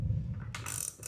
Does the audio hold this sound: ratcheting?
yes